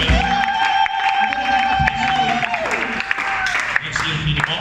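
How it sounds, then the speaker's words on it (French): A church congregation at a French-language service breaks into sustained applause, with clapping under ringing musical tones and scattered voices throughout. "Est-ce que tu peux acclamer d'abord"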